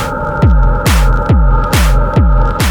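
Heavy hard hypnotic techno pulses throb at a steady tempo, with bright bursts of noise on the beats swelling into a washed-out reverb haze.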